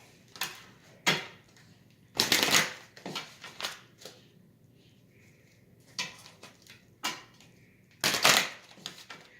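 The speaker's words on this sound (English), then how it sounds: "Let me pull some Angel Answers cards to cover this reading" Angel Answers oracle cards being shuffled and pulled, giving bursts of dry riffling and slapping card noise in irregular clusters, close and moderately loud, with brief quiet gaps between.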